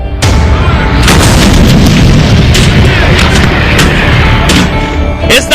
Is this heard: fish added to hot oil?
no